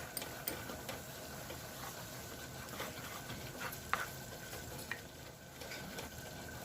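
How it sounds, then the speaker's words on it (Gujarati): Gram flour (besan) roasting in oil in a pan, a faint, steady sizzle with occasional light ticks and scrapes from stirring, quiet and close, with no talking. "એમાં આપણે 1 ચમચી બેસન એડ કરવાનું છે અને એને સરસ રીતે શેકાવા દેવાનું છે"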